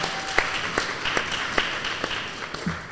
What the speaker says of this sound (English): Round of applause, come on, we've got a live audience